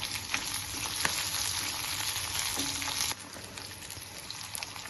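Garlic, shallots and dried red chillies frying in a pan for a tomato kuzhambu, giving a steady, close sizzle that drops slightly in level partway through, with no voices.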